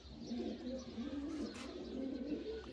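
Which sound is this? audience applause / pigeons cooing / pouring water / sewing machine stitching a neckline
pigeons cooing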